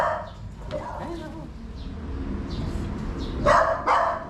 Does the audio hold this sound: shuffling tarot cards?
no